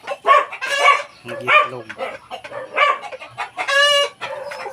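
Rhode Island Red and Black Australorp chickens cluck and crow repeatedly at close range, with a dog-like bark mixed in and a brief spoken remark among the calls.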